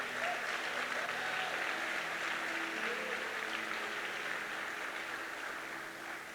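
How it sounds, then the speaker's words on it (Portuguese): A church congregation claps at a sermon, a soft, even wash of applause that stays faint and distant and tapers slightly toward the end. "Dê uma salva de palmas a Jesus por isso"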